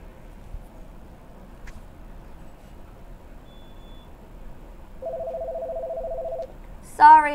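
Radio call-in line with a quiet background hum, then a steady telephone tone for over a second, followed by a loud burst of rising chirpy dial and line tones at the end.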